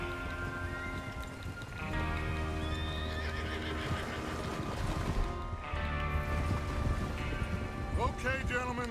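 Horses in the Red Dead Redemption 2 video game whinny and neigh over clip-clopping hooves and a busy game soundscape, with the calls rising clearly above a dense, continuous background.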